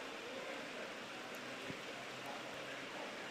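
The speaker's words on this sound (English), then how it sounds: "And the rain falls heavier, probably the heaviest we've seen it all morning now." Heavy rain falls steadily on an outdoor football pitch during an Isle of Wight versus Guernsey match, a faint, continuous broadband hiss with no breaks and no voices.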